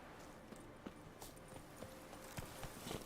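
Hooves of Roach, a horse in The Witcher 3, clip-clopping in a steady galloping rhythm, faint and quiet under a soft ambient wash, with no talk over them.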